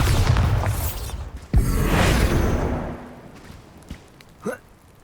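A Bombarda spell explosion in Hogwarts Legacy: a sharp burst followed by a broad whooshing boom that decays over a second or two, trailed by a few smaller pops and magical swishes, fairly close and alone.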